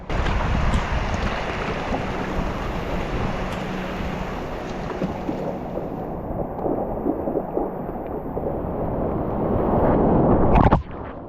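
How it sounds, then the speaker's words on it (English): Strong wind at sea buffets the microphone with a roaring rumble that swells and gusts throughout, loud and close, with no voices. "it's just too windy to go out on the open sea right now"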